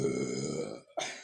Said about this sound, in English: I burp a lot.